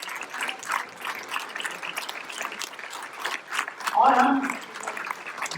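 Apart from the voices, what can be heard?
audience applause welcoming guests at an event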